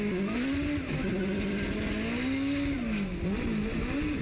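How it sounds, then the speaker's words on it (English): A 900-horsepower SR20 drift car driven by Formula Drift driver Dave Briggs revs hard, its pitch swooping up and down as the engine is held in the torque range, loud and continuous with no talk. "he revved it up, kept it in the torque range so he could dump the clutch off of handbrake"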